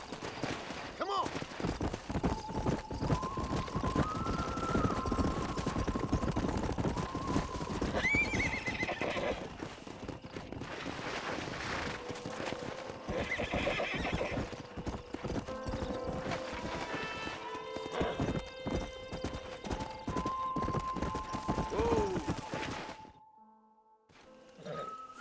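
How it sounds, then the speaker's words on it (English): Horses in the Red Dead Redemption video game whinny loudly several times over steady clip-clopping hooves, with game dialogue and music running beneath throughout before everything cuts out near the end. "We got some fine horses."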